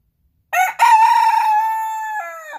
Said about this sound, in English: Stormy's crowing because he is definitely ready to show off to the ladies